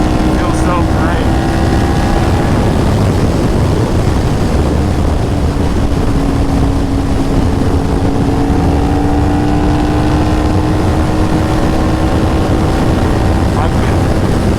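Motorcycle engine droning steadily while riding on Houston roads, loud and close, with a sustained tone that rises slightly in pitch, plus constant wind and road roar.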